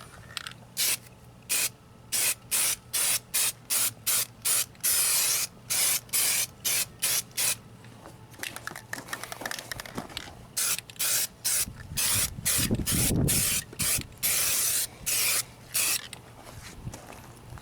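Black spray paint from an aerosol can is sprayed onto car spray nozzles in a run of short, sharp hissing bursts, then a longer continuous spray, close and fairly loud.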